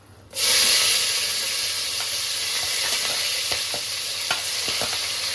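Onions, green chilies and tomatoes hit hot oil in a pan for an egg biryani, a loud sizzle bursting in and holding as a steady close hiss, with light stirring clinks throughout and no talk.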